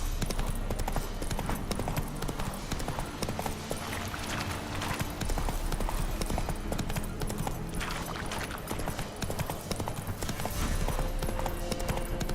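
The hooves of Roach, a video game horse, clip-clop in a steady trotting rhythm, close and continuous, over a dense layer of game ambience.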